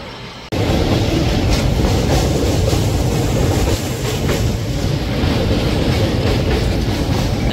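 A train rumbles steadily along the rails, loud and close, with a dense continuous roar and faint rhythmic clatter after a brief quieter start.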